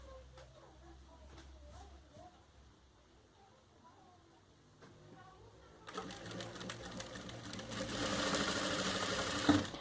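Sewing machine stitching a festive June-festival apron, running in a steady whirring burst that grows louder in the second half, with a quieter stretch of faint movement and a voice before it starts.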